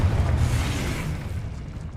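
A Confringo blasting spell explodes in Hogwarts Legacy, a loud, deep boom with a broad rumbling burst that fades away over about two seconds.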